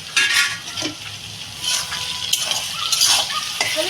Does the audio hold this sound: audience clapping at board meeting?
no